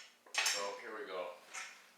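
Utensil scraping and clinking against a dish while French toast soaked in syrup is mixed, a few close, bright scrapes and taps over about two seconds, with no talking.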